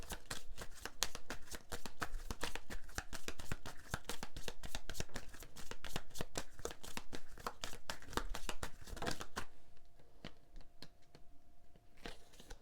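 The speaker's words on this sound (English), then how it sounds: "Okay, Libra, let's pull you an affirmation card" Tarot cards are shuffled in a long, continuous rapid riffle, close and steady, then softer handling and a few light taps as a single affirmation card is drawn.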